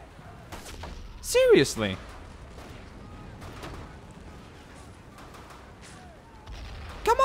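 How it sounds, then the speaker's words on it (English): Mortar shells landing in the video game 3000 Miles to Tokyo, a couple of distant booming impacts amid battlefield ambience, with someone talking briefly over it. "What happened to the power of the mortar here? That landed right."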